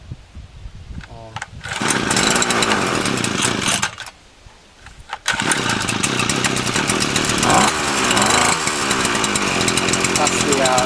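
Titan TTBCP33 33cc two-stroke split straight-shaft brushcutter starting and running: a short sputter, then a loud buzzing engine close by, a brief drop to near quiet, then a sustained high-revving whine again.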